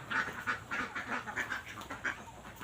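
Domestic ducks quack in a steady series of about half a dozen nasal calls, moderately close and clear, with no talking over them.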